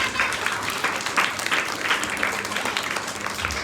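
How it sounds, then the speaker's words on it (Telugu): Audience applause at a church Vacation Bible School puppet show, a steady wash of clapping from a small crowd that holds through the whole stretch. "ఆ, అందుకని మళ్ళీ ఒకసారి క్లాప్స్ కొడదాం ఆంటీకి"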